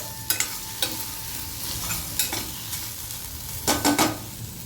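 Okra sautéing in a pan sizzles steadily, with a few sharp scrapes and stirs of a utensil breaking through the close, moderate frying hiss.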